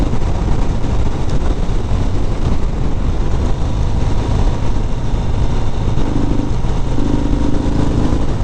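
A 2019 Harley-Davidson FXDR 114 motorcycle with an aftermarket-style air intake rumbles steadily while being ridden, a loud, continuous low engine drone with wind noise and no pauses.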